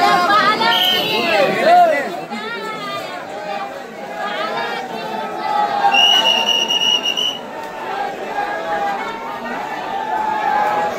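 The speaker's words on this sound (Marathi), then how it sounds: "पालखीचं दर्शन घ्यायला. गर्दी बघा किती वाढले." A large, dense crowd gathered to see a palanquin procession, with loud chatter and overlapping voices, sharp whistles rising above the babble and a steady hum of the gathering throughout.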